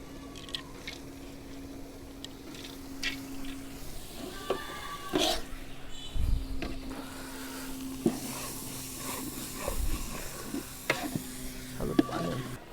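Masoor and khesari lentils go into a large pot for khichuri and are stirred, giving soft scraping, wet shuffling and clanks over a low background hum, fairly quiet and uneven.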